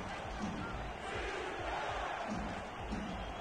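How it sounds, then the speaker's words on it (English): Crowd roaring at an indoor football game in Indianapolis, simulated league play with Baltimore visiting: a dense, sustained wash of cheering and shouting that stays steady, heard at a distance with no clear voices standing out. "Crowd on their feet here in Indy"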